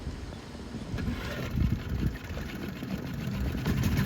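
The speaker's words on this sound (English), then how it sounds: "I held my breath as John pulled the starter cord" A dinghy outboard motor started with a pull cord, a rough rising mechanical chatter that settles into a steady close engine run for a few seconds.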